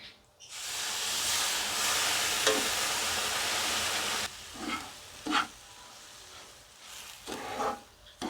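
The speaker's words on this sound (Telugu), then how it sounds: "ఈ జ్యూసు రవ్వ కలిసేలాగా పూర్తిగా కలుపుకోవాలి" Semolina (rava) being stirred with beetroot juice in a pan for sweet rava laddu, a steady loud hissing sizzle for about four seconds, then quieter with several short scraping stir strokes.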